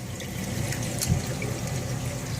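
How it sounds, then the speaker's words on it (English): Water from an aquarium overflow drains down a tube into a refugium, a steady close-up rushing and trickling flow with a low gurgle that holds level throughout. "the water comes down on this tube here from the overflow in the aquarium"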